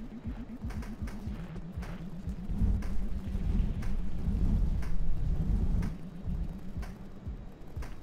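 Rain and rumbling thunder in the video game Rain World: a steady patter with low rolling booms swelling in the middle, joined by a repeating ticking pulse.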